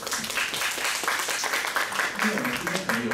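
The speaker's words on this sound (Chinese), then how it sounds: "我们以热烈的掌声来欢迎吴钟教授。" A lecture audience on Taoism claps to welcome Professor Palmer, a dense, steady patter of many hands filling the hall, with some voices underneath.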